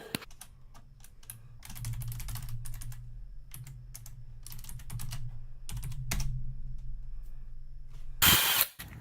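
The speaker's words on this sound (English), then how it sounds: "Oh, I love power tools." A power tool works on a 14 mm bolt during a 2013 Mazda 2 engine mount replacement, firing in rapid ratcheting bursts with short pauses and ending in a louder final burst, heard close with no talk.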